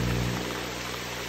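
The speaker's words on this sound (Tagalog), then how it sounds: "Umuulan na." Rain falls on a rice field during planting, a steady soft hiss of drops that stays constant and close throughout the brief moment.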